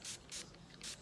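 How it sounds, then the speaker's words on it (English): Three short hissing bursts of Tarte 4-in-1 setting spray misted onto a face, close and fairly loud, with brief quiet gaps between them. "I have this 4-in-1 setting spray by Tarte"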